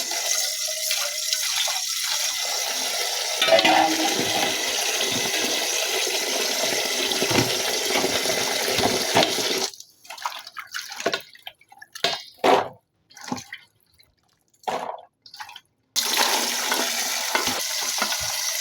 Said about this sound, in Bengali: সবজিগুলা ধুয়ে নিব